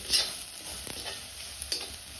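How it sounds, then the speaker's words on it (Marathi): Spice tempering sizzling in oil in a pan over a village wood-fired stove, with close scraping stirs and a steady frying hiss throughout a short stretch. "फोडणी छान परतली।"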